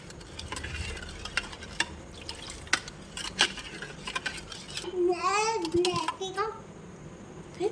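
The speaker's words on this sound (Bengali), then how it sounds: "চিনিটা দুধের সাথে একটু মিশিয়ে নেব" A spoon stirs sugar into milk in a bowl, with clinking and scraping strokes in an irregular rhythm, close by, joined by a voice partway through.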